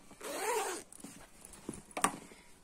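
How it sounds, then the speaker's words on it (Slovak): A zipper on a black school bag pulls open in one long close rasp, followed by a few softer rustles and a sharp click from the bag's fittings. "To sa otvorí zipsom."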